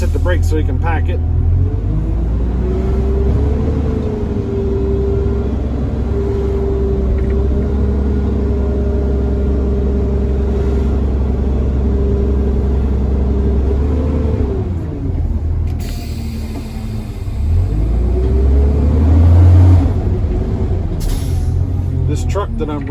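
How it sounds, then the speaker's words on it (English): Compressed natural gas garbage truck engine idling and running from inside the cab, a steady low rumble with a droning tone that dips and rises as it revs, with air-brake hiss near the end. "Truck that I'm running is natural gas."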